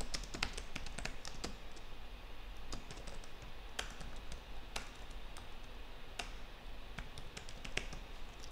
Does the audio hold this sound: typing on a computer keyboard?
yes